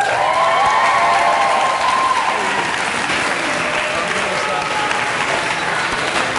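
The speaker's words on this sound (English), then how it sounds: "Why are we clapping?" Audience applause at a slam poetry competition, a steady broadband wash of many hands clapping that stays loud throughout, with some voices and cheering mixed in.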